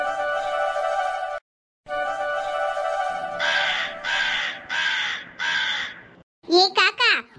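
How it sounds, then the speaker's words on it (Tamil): Crow cawing in a Tamil village-life cartoon: a sustained animated tone, then four loud, evenly spaced caws and a quick burst of harsh squawks near the end, with a voice speaking alongside. "ஏ காக்கா, ஒழுங்கு மரியாதையா ஓடி போயிரு"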